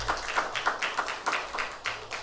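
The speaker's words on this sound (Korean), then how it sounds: "우리 성가대에게 다시 한번 감사의 박수 하겠습니다." Church congregation applauding the choir during a Sunday worship service, a soft, distant patter of handclaps in an irregular rhythm, fairly faint and steady.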